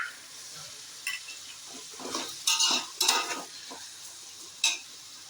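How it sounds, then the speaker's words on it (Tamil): Onions sautéing in a pan with salt for a kadamba fish biryani, a soft continuous sizzle broken by several sharp scraping stirs of a utensil against the pan, close and clear with no voices. "வெங்காயம் நல்லா வதங்கட்டும்."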